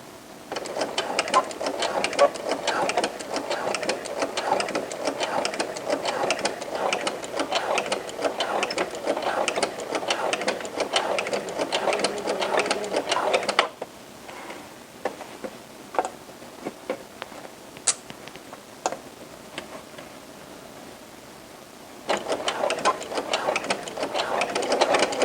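A sewing machine stitches a T-shirt hem with a twin needle, its fast even clatter running close and loud, pausing for a quieter stretch with a few stray clicks, then starting up again.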